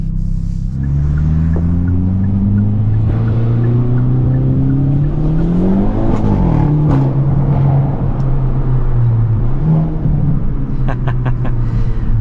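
A 2022 Hyundai Elantra N engine accelerates steadily from the cabin, its loud, continuous drone climbing in pitch through the gears with brief dips at shifts and no talking.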